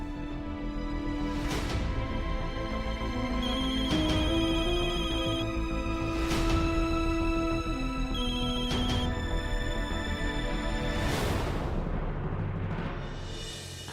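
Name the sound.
telephone ringing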